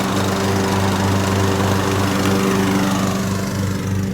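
A riding lawn mower runs steadily nearby, its engine droning loud and even with a constant low hum and no voices over it.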